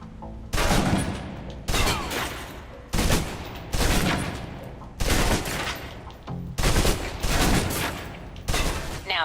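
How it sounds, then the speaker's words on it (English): A submachine gun in the video game Alpha Protocol empties its full magazine in loud, rapid bursts, about seven close, punchy volleys of automatic fire separated by short pauses. "Now, let's move on to the submachine gun. Now let's empty the clip."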